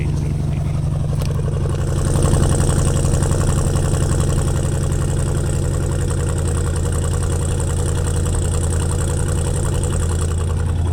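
A 2018 Dodge Durango SRT 392 idles with a deep, steady V8 rumble heard close up. The engine swells slightly around the two-second mark, then settles back into an even, throbbing idle.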